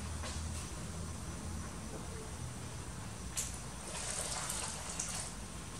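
Water poured gradually into a bowl of flour for empanada dough, a steady, soft, continuous trickle of moderate loudness that runs for several seconds with no talking.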